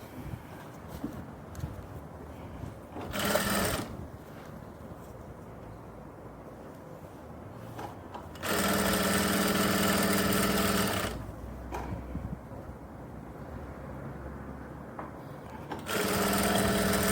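An interlock sewing machine overlocks the edge of a women's pant in three loud mechanical whirring bursts, short first, then longer, then a final one starting, separated by quieter room noise.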